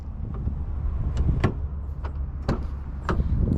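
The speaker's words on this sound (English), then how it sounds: "With this key fob, you can unlock the doors from here." Several short sharp clicks and clunks as a 2023 Ford Mustang EcoBoost's door locks actuate via key fob, spaced irregularly over a steady low rumble of a vehicle nearby.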